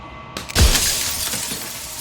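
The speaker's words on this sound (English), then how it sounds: "The shattering of the glass over and over really hurts my ears." Glass shattering in a video game, a sudden loud crash breaking out of a quiet hum and trailing into a long, bright, crackling tinkle of falling shards, with no talk.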